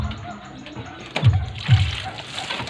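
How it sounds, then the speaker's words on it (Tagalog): Tap water runs over freshly picked, dusty banaba leaves being washed at a faucet, a steady splashing stream with two louder gushes midway. "Hugasin natin sa gripo ha."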